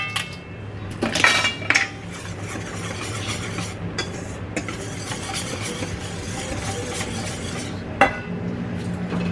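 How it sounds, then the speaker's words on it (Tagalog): Spoon scraping and clinking against a bowl while stirring flour and baking powder dough for stick bread cookies, a steady close-up knocking and scraping rhythm with a few sharper clinks. "Haluin muna natin guys siya."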